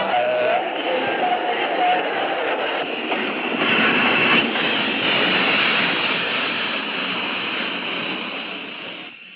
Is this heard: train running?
yes